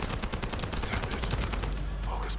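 Rapid bursts of gunfire crackle through a firefight in the video game The First Descendant, with close, dense volleys and a heavier blast toward the end.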